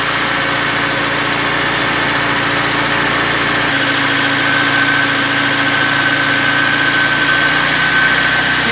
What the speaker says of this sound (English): You can hear that picking up the throttle there.